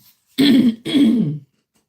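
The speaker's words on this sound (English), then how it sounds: "Sorry, but I keep clearing my throat" A person clears their throat twice in a row, close and loud, two short harsh rasps separated by a brief pause, then silence.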